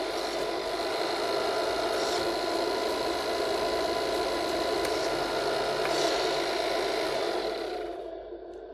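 A Tamiya MFC-03 RC truck's transmission runs forward, giving a steady, even electric whir and hum with faint rattling, continuous at moderate level before easing down near the end.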